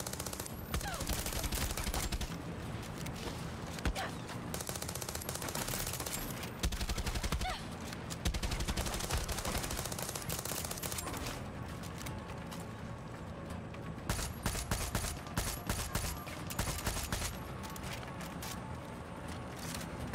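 Dense automatic gunfire from the video game Far Cry 6 rattles on continuously in rapid bursts and volleys, loud and unbroken for the whole stretch with mechanical clatter mixed in.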